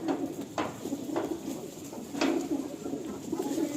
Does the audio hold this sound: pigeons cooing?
yes